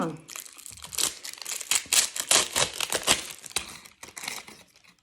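Plastic packaging crinkles and crackles loudly up close as it is pulled and unwrapped, in irregular bursts that fade toward the end.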